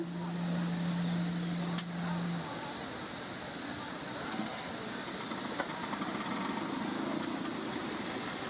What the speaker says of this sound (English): Those are our 2 traction engines from Statfold here today.